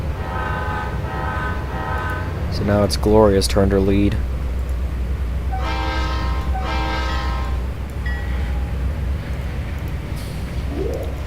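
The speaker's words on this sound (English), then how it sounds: "now we turn the train around" Train engine rumble and horn tones from the train simulator game Trainz, with a person talking over the sounds and a steady low mechanical drone throughout.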